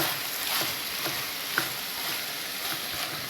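Vegetables for a white kuruma sautéing in hot oil, giving a steady soft sizzle with faint occasional stirring taps, fairly quiet and with no talking.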